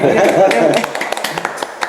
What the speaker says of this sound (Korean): 다시 박수 칩니다